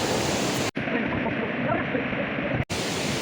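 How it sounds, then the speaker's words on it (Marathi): The Kalu waterfall roars as a steady, dense rush of falling water, heard up close and continuous apart from two brief cuts. "आता आम्ही ह्याच वॉटरफॉलचा मजा घेतो आणि रिटर्न"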